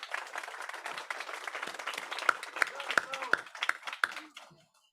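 An audience at the Survivors Empowered kickoff event in San Diego applauds guests, with dense, steady clapping that thins out and fades away near the end.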